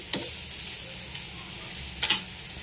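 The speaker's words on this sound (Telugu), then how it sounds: "సన్నగా కట్ చేసుకున్న ముల్లంగులు అలాగే పచ్చిమిరపకాయలు వేసి వేయించుకుంటున్నాను ఇది నూనెలో మంచిగా ఫ్రై అవ్వాలి" Thinly sliced radish and green chillies frying in about four spoons of oil, a soft continuous sizzle with two sharp spatula scrapes, one near the start and one later.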